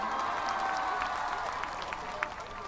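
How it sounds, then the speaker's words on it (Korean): Audience applause at a 2017 youth talk concert fills the hall, steady and dense with a few sharper claps standing out, while a faint voice may murmur underneath. "좋은 목소리, 좋은 말씀 들려주신 조인성 씨께 다시 한번 큰 박수 부탁드립니다."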